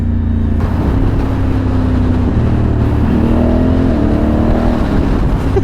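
A Honda Africa Twin motorcycle engine revs steadily and loudly up close, its throttle blips rising and falling in pitch over a constant rumbling drone, with no talking.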